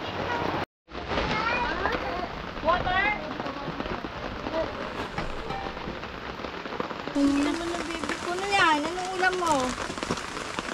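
Steady rain patters on a surface throughout at a campsite while people talk and a voice rises over it.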